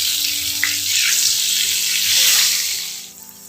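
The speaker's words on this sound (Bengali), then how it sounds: "বেগুনগুলোকে ভেজে নিচ্ছি, একটু লাল করেই ভাজতে হবে।" Eggplant slices, seasoned with turmeric and salt, fry in hot oil in a pan for a Bengali doi begun dish, giving a steady, loud broadband sizzle that swells midway and eases off near the end, with no talking.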